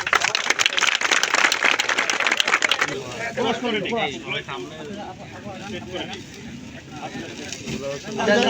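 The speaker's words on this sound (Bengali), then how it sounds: "সুন্দর একটা করতালি হবে প্লিজ।" Trainees at a fire service firefighting training session give a burst of loud group clapping for about three seconds, which then fades as someone speaks.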